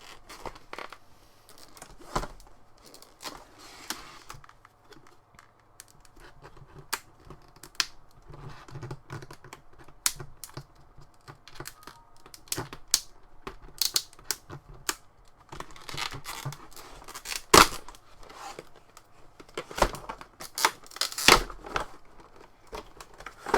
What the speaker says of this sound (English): Now the type of blister packaging is the one that you can just pop open like so.